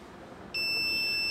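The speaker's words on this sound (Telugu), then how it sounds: "so buzzer on and vehicle stop అయింది" A high, steady electronic buzzer tone from a smart helmet's alcohol sensor switches on suddenly when alcohol is detected and holds continuously over a low background hum.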